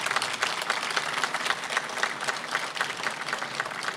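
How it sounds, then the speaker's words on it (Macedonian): Crowd applause at an outdoor VMRO-DPMNE political rally, a sustained patter of many hands clapping at moderate distance with no talking. "Да ги поздравиме со еден огромен аплауз."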